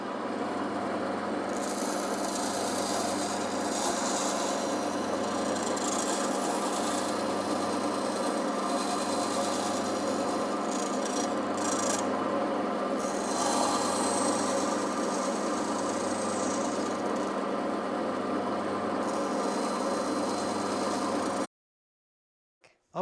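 Hand saw cutting through wood veneer on a leaf-shaped ornament, a steady continuous rasping stroke sound that runs close and loud for about twenty seconds before stopping abruptly.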